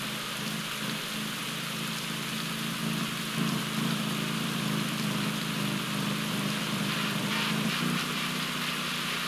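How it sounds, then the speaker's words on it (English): Steady rain falls through a Pro Cycling Manager 2020 race, an even, constant hiss that holds for the whole stretch with no speech. "Rain, rain, rain!"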